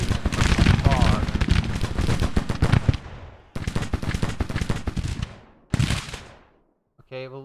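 Cannon fire from Civil War artillery in Grand Tactician booms in loud, rapid, rolling volleys, broken by brief pauses, with a voice talking over the barrage.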